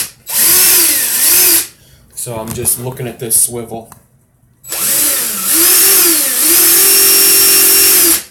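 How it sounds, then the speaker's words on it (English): Drill spinning a coil-winding swivel tool, a loud high whine running in two long bursts with a pause between where someone talks. "I like to put a tail under my drill so that it makes less noise."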